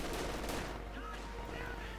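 Dense, rattling small-arms and machine-gun fire crackles through a 1v1 Company of Heroes 2 battle near a church, with a commentator talking over the continuous din.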